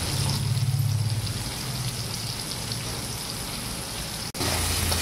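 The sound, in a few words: potatoes and pointed gourd sizzling while frying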